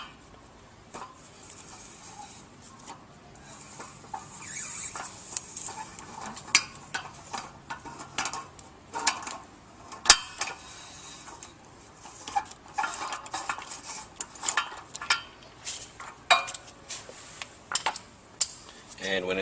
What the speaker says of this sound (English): we'll use a 41mm socket to loosen the shaft seal